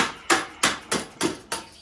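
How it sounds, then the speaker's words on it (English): Five evenly spaced metallic hammer strikes on the triple clamps of a 1996 CR250 motorcycle, sharp and close, each ringing briefly before the next blow. "hammer it up"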